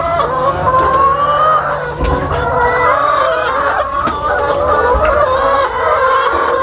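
Many chickens cluck steadily and close by inside a portable solar-powered egg shed, a dense overlapping chorus of hens with no voices over it.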